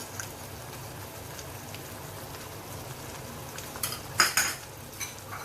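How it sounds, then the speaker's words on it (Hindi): Spoon working chili flakes and oregano through pasta in a pan, mostly a soft low shuffle before a few louder metallic clinks and scrapes near the end. "अब इनको मैं अच्छे से मिक्स कर लूँगी ताकि ये सब मसाले जो हैं वो अच्छे से मिक्स हो जाएं।"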